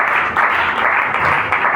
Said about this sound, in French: Ou est-ce que tu peux applaudir pour le roi des rois?